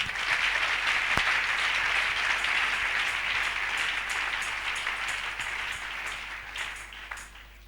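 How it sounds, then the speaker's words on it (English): A large congregation at a church liberation camp breaks into loud, sustained applause that fades gradually toward the end, dense hand claps filling the hall without speech over them. "Clap your hands well."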